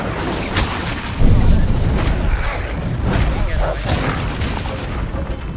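Incendio fire spell cast in the Hogwarts Legacy video game, a heavy boom that lands about a second in, followed by continuous rumbling blasts and crackling combat noise.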